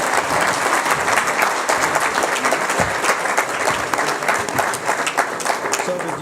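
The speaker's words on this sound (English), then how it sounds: "So with a big round of applause," Sustained applause from a large audience at an Eid and integration community dinner, dense steady clapping filling the room with some crowd murmur beneath, continuous throughout.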